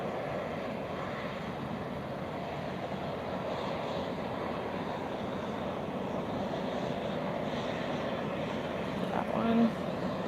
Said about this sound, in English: And now our Embraers are advancing.